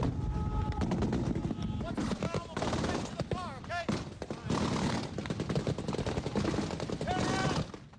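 Gunfire crackles in a firefight with rebel fighters, dense rapid shots and bursts that run almost continuously and loud, mixed with shouting voices throughout.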